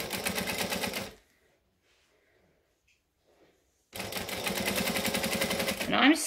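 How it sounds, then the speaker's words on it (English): A sewing machine stitches along the vinyl edge of a shoulder bag: a loud, rapid mechanical run, a pause of near silence for about three seconds, then another steady burst of stitching. "I'm stitching 1/8 of an inch from the edge of the vinyl"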